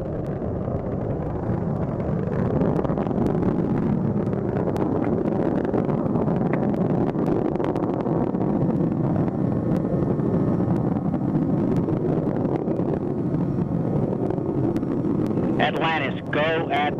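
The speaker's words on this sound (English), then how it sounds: "Engines now revving up, standing by for the throttle up call." Space Shuttle Atlantis climbs on its final launch, STS-135, with its main engines throttling up. A heavy, continuous low roar and rumble fills the whole stretch at steady loudness, and a brief higher sound like a voice breaks through near the end.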